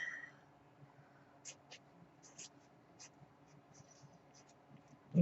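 Purple Tombow brush pen writing on paper, a series of soft, short scratchy strokes at an irregular pace, close and quiet, with a faint low hum underneath and a brief thump at the end.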